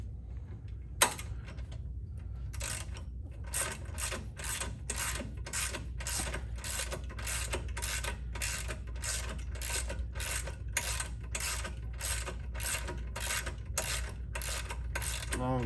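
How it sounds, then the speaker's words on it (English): A ratchet with a 15mm socket loosens long, thread-locked bolts on a Can-Am Spyder RT during a belt tensioner install. A single sharp click comes first, then a long run of rapid, evenly spaced ratcheting clicks, close and steady. "these are the 2 bolts that we're going to remove, and you're going to use a 15mm socket on that."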